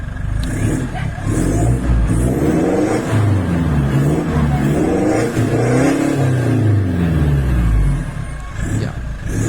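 Mitsubishi Strada pickup with a full aftermarket exhaust heard from outside the vehicle, loud and near, its engine rumbling through several rising and falling revs in a steady, throaty drone.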